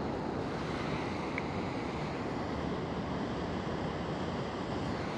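Waterfall pouring among rocks on a long exposure photography outing, a steady broadband rush of water at constant loudness from start to finish, with no voices.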